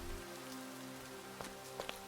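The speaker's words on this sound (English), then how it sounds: "And here comes the rain." Steady rain hisses in Minecraft during a castle build, a soft continuous wash of drops with a few brief ticks and taps near the end and no talking.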